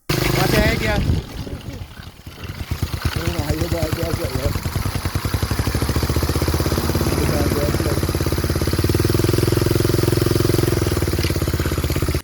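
A motorcycle engine used to power a homemade helicopter runs steadily close by, a loud continuous idle with a rough throbbing note, while someone talks over it.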